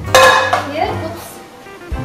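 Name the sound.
dish placed on top of pot and turned over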